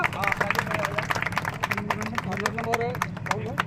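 Audience clapping at an outdoor village chaupal gathering in Deoria, a steady burst of many hands applauding together, with crowd chatter and voices mixed in throughout.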